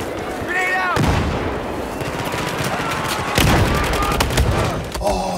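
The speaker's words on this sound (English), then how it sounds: "The grenade killed one and injured the second, but there was a third there as well." Battlefield 4 combat with a grenade explosion and heavy gunfire, loud bursts and booms layered over constant battle noise, with a voice talking over parts of it.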